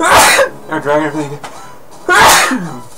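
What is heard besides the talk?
sneeze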